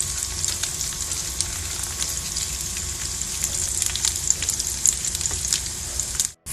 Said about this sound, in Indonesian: Pertama kita panaskan wajan, kemudian kita masukkan 2 sendok margarin. Kita tunggu hingga lumer si margarin ini.